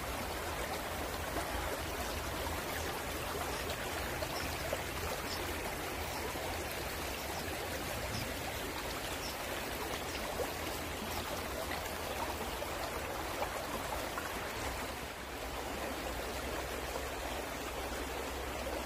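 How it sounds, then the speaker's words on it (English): Water flowing in a mountain stream near a stone stepping-stone bridge at Iancheon, Gyeongsangbuk-do, a steady, close, full rushing babble that stays constant throughout without a break. "Listen to the sound of flowing water."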